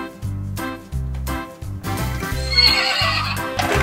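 A toy pony from a farm-animal surprise neighs in a long, wavering whinny, with clip-clop hoof sounds under bouncy background music and no talking.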